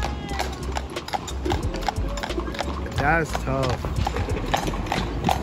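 Horses pass at a cheer event, their hooves clip-clopping in a steady, fairly close rhythm among crowd noise and excited talk, with music playing in the background.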